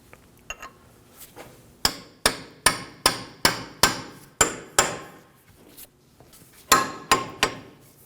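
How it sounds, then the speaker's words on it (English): Metal hammer blows ring out on a steel punch freeing the front axle from the hub of a 2013-2015 Subaru XV Crosstrek, a quick run of about eight sharp strikes, a pause, then three more, close and loud. "We're going to use a hammer and punch to free up the axle from the hub."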